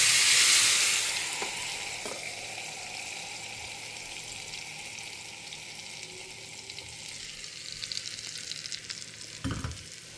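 Spices fry in hot oil for mess-style sambar, giving a continuous close sizzle that starts with a loud hissing burst and then settles into an even crackle, with a few knocks of stirring near the end.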